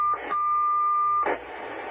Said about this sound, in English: Oh yeah, tones, tones, tones.